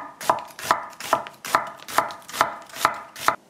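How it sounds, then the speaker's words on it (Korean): An onion being sliced with a knife on a board, eight crisp, evenly spaced chops in a steady rhythm, close and clear with nothing else audible. "양파를 썰어 보겠습니다."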